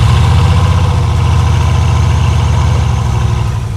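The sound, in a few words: W16 car engine idling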